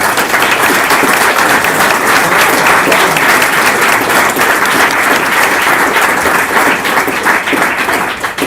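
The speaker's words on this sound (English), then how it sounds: "please join me in a final round of applause for all those people" A large audience at a panel event gives a final round of applause for the panellists, loud, dense and sustained clapping throughout without a break.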